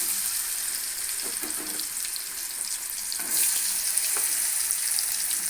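Raw plantain slices fry in oil over medium heat, a steady crackling sizzle that runs throughout and grows a little louder partway, with a few soft clinks on top.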